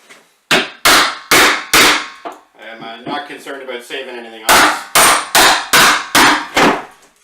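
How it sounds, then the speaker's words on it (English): Rock hammer knocking doors off during a demolition job, a series of loud close wooden whacks in quick groups of four and five, with someone talking briefly between them. "I'm taking these doors off. I'm just going to use my rock hammer here."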